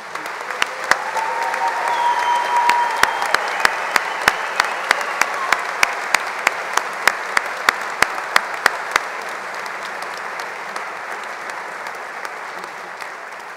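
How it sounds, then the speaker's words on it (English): A large audience at a spring architecture and design commencement gives a long, sustained round of applause, steady dense clapping with a few sharp close individual claps standing out above the wash, gradually thinning toward the end. "would all the announced recipients please stand up so we can give you a big round of applause"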